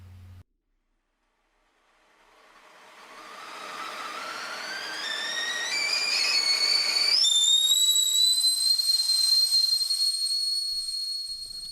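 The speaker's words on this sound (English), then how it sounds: "I'll put the kettle on" A kettle on the stove starts whistling after a moment of silence, its shrill tone rising and climbing in pitch, then jumping to a steady piercing whistle that holds loud and alone to the end.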